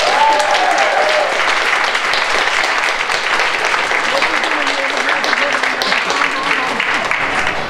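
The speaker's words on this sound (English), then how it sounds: "Round of applause for those students." An audience applauds senior art students at a university art exhibition, sustained loud clapping that fills the room throughout, with crowd murmur and a few voices underneath.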